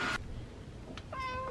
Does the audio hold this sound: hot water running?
no